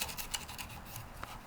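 Scissors snip through the cord lashing on a bamboo furniture leg, a few quiet, close cutting and scraping sounds at low volume.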